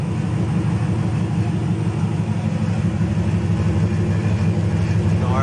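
A 1974 Chevy Nova's big-block 454 V8 idles at about 750 RPM, a deep steady rumble with a low throbbing pulse, loud and close, unbroken throughout.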